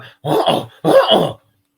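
A voice imitates a frightened dog with two short, close, gruff whining growls, each about half a second, separated by a brief pause.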